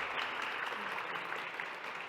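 Dense, steady audience applause for the speakers at a beauty talk, continuous and fairly loud across the whole stretch.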